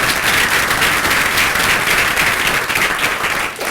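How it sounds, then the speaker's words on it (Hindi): Steady, dense applause from a seminar audience at SSBT Jalgaon, loud and continuous throughout with no talk over it, easing slightly at the very end. "मकरन जी के लिए, दिल से तालियां बजनी चाहिए।"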